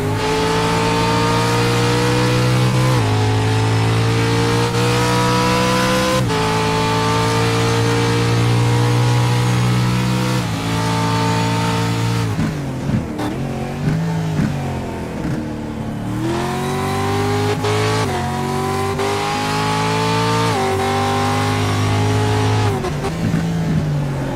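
Pro 4 race car engine in a racing video game at Watkins Glen, revving loud and continuous for the whole stretch, pitch climbing and dropping through gear changes and corners, with a brief scrape as the car slides wide.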